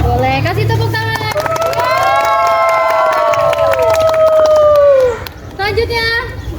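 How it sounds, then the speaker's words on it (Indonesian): Elementary school pupils in a classroom cheer together with a long, sustained shout of voices, mixed with some clapping and crowd noise. The group sound ends abruptly and light chatter follows. "kasih tepuk tangan"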